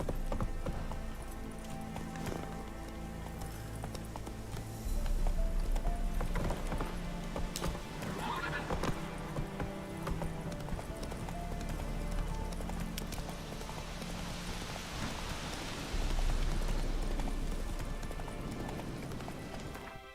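Roach the horse galloping in The Witcher 3: Wild Hunt, rapid rhythmic hoofbeats pounding continuously over a tonal background score, loud and close, swelling in intensity partway through.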